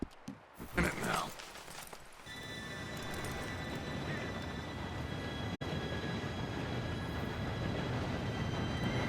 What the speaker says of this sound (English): Train should be here any minute now.